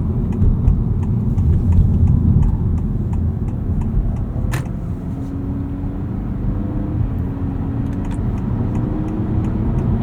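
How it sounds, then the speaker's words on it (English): A 2025 Honda Civic Hybrid sedan accelerates at normal pace, its quiet hybrid powertrain giving a steady low hum and road rumble heard from inside the cabin, with a faint rising engine tone and no talking. "Just some normal acceleration there."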